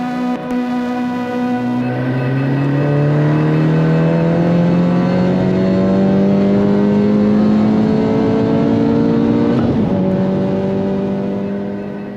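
A Honda Civic Type R 2.0 turbo accelerates hard in third gear, its engine note climbing steadily and loudly for about ten seconds before a brief dip as revs settle, with no talk over it.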